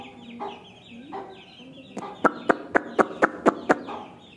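A chicken clucks in soft scattered calls, then breaks into a rapid run of about eight sharp, loud clucks in a steady rhythm, close by and alone.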